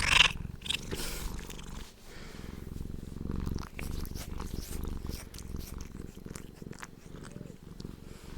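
A cat purrs close up, a low steady rumbling throughout with a faint brief rustle at the start.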